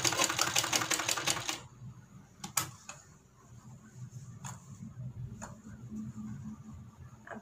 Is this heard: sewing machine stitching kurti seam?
yes